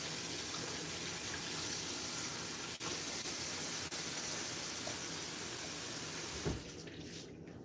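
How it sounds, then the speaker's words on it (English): Tap water runs steadily into a sink as a glass jar is rinsed, a continuous close hiss broken by a couple of brief dips and a knock near the end as the flow changes. "I'm going to wash the jar off real quick."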